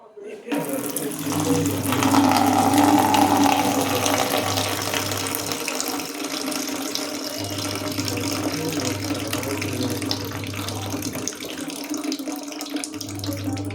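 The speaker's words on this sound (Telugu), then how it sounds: "ఇప్పుడు నీళ్ళు పంపేసుకుందాం" Water is poured off soaked flattened rice (poha) in a kitchen, making a steady splashing, running flow for several seconds, with a low hum underneath.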